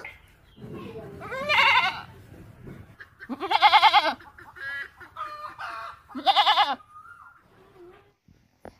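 Goat bleats used as a sound effect in a children's alphabet song, several loud wavering bleats in short bursts among other farm animal calls, with a child-oriented voice nearby.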